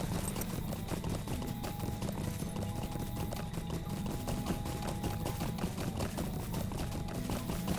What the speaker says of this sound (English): So here's how it looks running. It's the regular run animation horse.